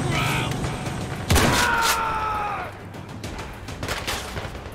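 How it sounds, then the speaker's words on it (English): Shotgun blasts in the video game Zero Caliber during a training session: one sharp, loud boom rings out midway, followed by lighter clatter and background game ambience. "Shotgun time."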